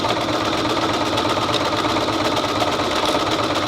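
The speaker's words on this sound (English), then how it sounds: "Now I start sewing the front together" A sewing machine runs steadily, stitching the front of an oven mitt together, with a continuous close mechanical whir and fast regular needle beat and no pauses or talk.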